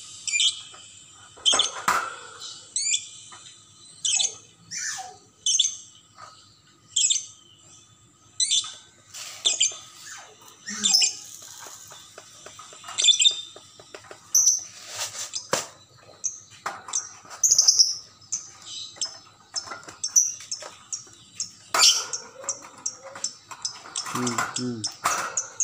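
Pet lovebirds chirp and squawk close by in a long run of sharp, high, repeated calls with short pauses. A person talks at times under the calls.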